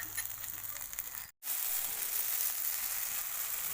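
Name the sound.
spices with ginger garlic paste and coriander sizzling in pan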